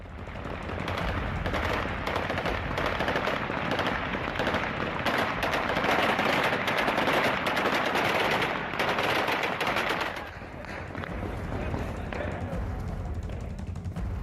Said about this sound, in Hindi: कुछ तालिबानी लड़ाके थे जो इस बात पर फायरिंग कर रहे थे, हर्ष फायरिंग हो रही थी